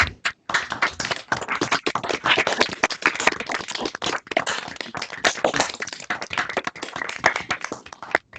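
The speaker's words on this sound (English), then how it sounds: "One more round of applause, do you think," A small audience gives a round of applause at a conference, a close, uneven patter of individual hand claps that carries on for several seconds.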